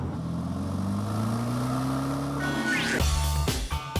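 An Audi saloon's 444 bhp 4.2-litre twin-turbo V8 revs up, its engine note climbing steadily before changing abruptly after a few seconds, close and fairly quiet.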